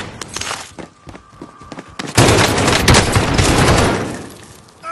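Gunfire aimed at the player in a battle-royale video game, a burst of loud dense shots erupting after a quieter stretch of scattered thuds and distant pops.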